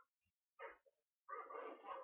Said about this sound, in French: il y a des chiens qui me poursuivent déjà et tout